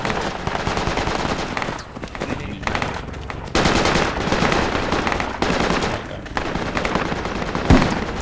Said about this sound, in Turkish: MG var. Şeyde ya, şuradan sıkıyor.